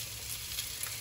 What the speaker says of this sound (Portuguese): Aqui eu tenho a massa, ela tá quase, inclusive, ó, vou mexer aqui